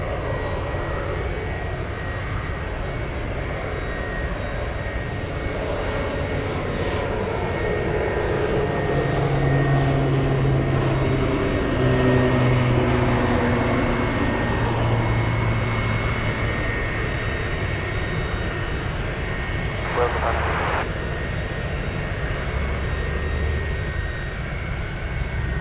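A Boeing C-17 military cargo plane at Anchorage airport, its engines a loud, sustained roar with droning tones that slowly shift in pitch as it moves, swelling a little in the middle.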